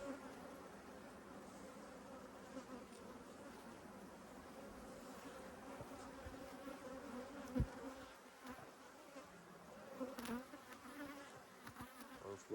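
Honeybees buzzing steadily during a fall beehive inspection, a dense continuous drone close by, with a few soft knocks and handling sounds over it.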